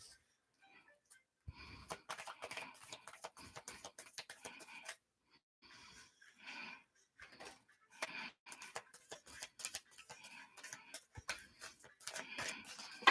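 Tarot cards being shuffled by hand, a run of quick crisp riffling and snapping card flicks in irregular bursts with short pauses, close and fairly quiet.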